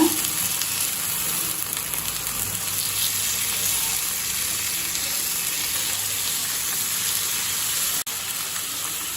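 Spiced chicken pieces grill in an oiled pan at home, giving a steady, loud broadband sizzle with a faint crackle throughout, briefly dipping near the end, with no voices over it.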